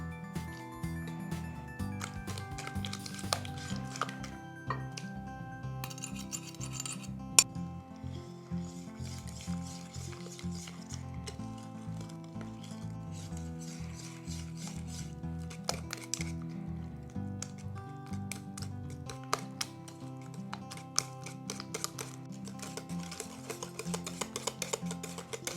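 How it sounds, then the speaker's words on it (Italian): Four eggs being worked into a creamy flourless Basque cheesecake batter, with soft wet stirring and squishing, small clicks of utensil against bowl, and a light electronic music bed underneath. "Ora aggiungo le uova"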